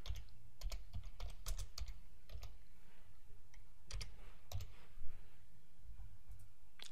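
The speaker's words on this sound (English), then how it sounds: "and start typing." Typing on a computer keyboard comes in quiet bursts of crisp key clicks, close and fairly soft, with short pauses between runs and no speech.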